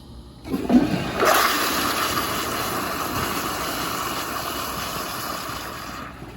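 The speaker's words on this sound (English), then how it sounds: "let's give it a flush" A 1999 American Standard Madera toilet flushes nearby: a sudden loud rush of water after a short quiet lead-in, then a steady swirling roar that holds for several seconds before cutting off.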